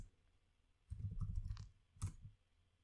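A computer keyboard sounds in two short bursts of soft clicks as a command is entered, close but faint against a quiet room.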